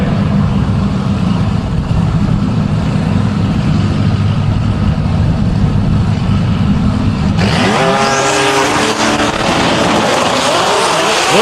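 A black Nissan GTR on beadlock wheels launching in a DCT Extreme drag race, a loud rumbling idle that bursts into a screaming full-throttle run with rapid rising gear-change sweeps, close and overpowering, with no talk.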